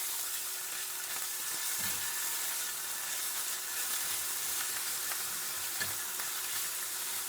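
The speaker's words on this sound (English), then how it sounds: "we'll add in our garlic. And at the same time, our anchovy. Okay. And we're just going to give that a little stir around in the pan" Garlic and anchovy fry in a pan with a soft, steady sizzle. A few quiet scrapes mark them being stirred around, and no one speaks over it.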